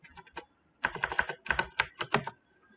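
Computer keyboard typing while entering code: a short burst of keystrokes, a brief pause, then a longer run of quick, close, fairly loud clicks in uneven clusters, with no voice.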